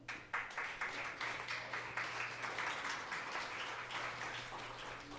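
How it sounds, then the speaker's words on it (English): Audience applause at a New Year's Eve live show, a steady crowd clapping that holds at an even level for several seconds, with a low steady hum underneath. "Give yourselves a great big round of applause for showing up"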